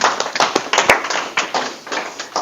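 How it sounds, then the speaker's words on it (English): A classroom audience gives a short round of applause for student presenters, a dense patter of claps with a few louder hits, fairly close and steady, with little talk. "Give them a big round of applause, please"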